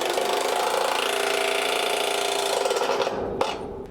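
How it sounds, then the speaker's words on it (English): A pneumatic impact wrench hammers a structural bolt tight against a direct tension indicator washer, loud and continuous for about three seconds before it stops abruptly, with a short sharp knock after. "I will signal the operator to stop impacting the bolt."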